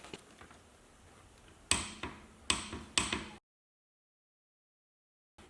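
Three sharp metal hammer strikes folding a washer tab over a front brake spindle nut on a Willys FC-150, each ringing briefly, after a quiet stretch and followed by silence.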